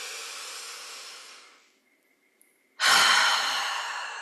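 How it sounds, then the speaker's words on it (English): A deep breath in and out during a calm guided relaxation session: a long soft airy exhale fading away, a brief pause of near silence, then a loud sudden rush of breath that slowly tapers, heard close and alone. "One big inhale in."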